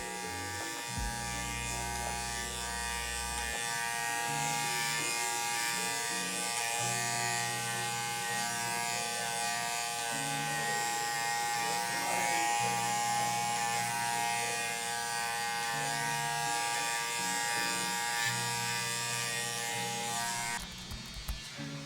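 Electric hair clippers buzz steadily and close by while cutting a fade in 4C hair, the hum shifting slightly in pitch as the blade moves through the hair, with no talking.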